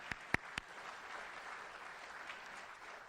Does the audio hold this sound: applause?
yes